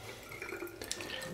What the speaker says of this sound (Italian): Si passa sotto l'acqua e al limite, come faccio io, un po' d'acqua sulla mano, un po' di sapone detergente